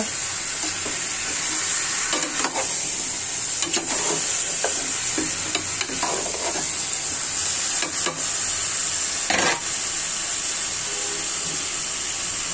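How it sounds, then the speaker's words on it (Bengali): Soy-sauce-marinated farm chicken pieces fry in a pan over high heat, giving a loud, continuous close-up sizzle with occasional stirring scrapes and pops. "চুলাটা বাড়ানোই আছে। এরপর যে চুলাটা আপনি বাড়িয়ে রাখবেন, তখন তাড়াতাড়ি মাংসগুলো গরম হবে, আবার ভাজা হবে।"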